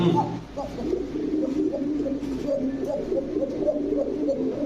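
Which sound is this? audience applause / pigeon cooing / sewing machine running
pigeon cooing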